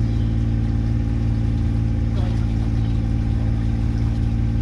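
A sailboat's engine runs at a steady, loud drone throughout, droning on without change while the boat is under way along the coast.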